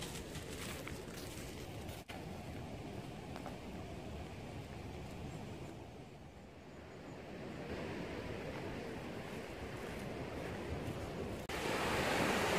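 Steady roar of surf crashing and washing ashore on a Sumatra beach, broad and continuous, with wind buffeting the microphone and the surge swelling louder near the end.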